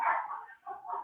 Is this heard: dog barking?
yes